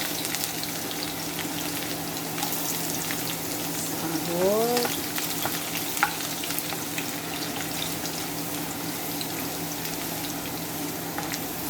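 Hot cooking oil frying steadily as an ingredient (akos) is added for a sweet chili dish, a constant broadband sizzle throughout with a brief swelling hiss near the middle.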